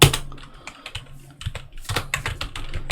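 Computer keyboard typing while entering spreadsheet formulas: a steady run of quick, close key clicks with a few louder strokes, no speech.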